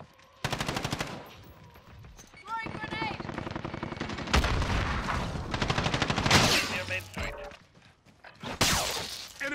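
Chaotic Call of Duty combat with a stun grenade going off amid rapid machine-gun bursts, shattering crashes and heavy impacts, loud and dense throughout with brief voices.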